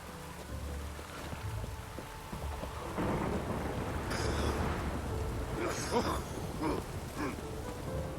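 Steady rain pours throughout in the video game Witcher 3, with a deep roll of thunder building in the middle and rumbling on, heavy and close.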